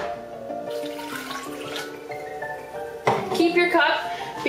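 Boiling water poured from a cup into a bowl for making jello shots, a close splashing trickle that strengthens toward the end, mixed with faint background sounds.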